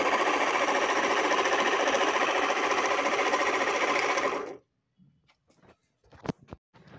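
A loud, buzzing RO water purifier pump motor runs steadily and noisily for several seconds, then cuts off abruptly, followed by a few faint clicks and knocks.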